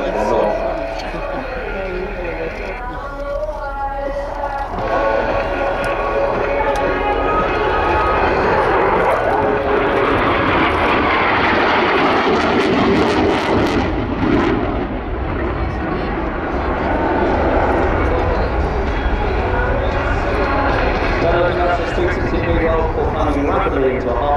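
A Eurofighter Typhoon jet roars through a display at RIAT 2024, a loud, continuous broadband rumble that swells and fades, with an announcer talking over it throughout.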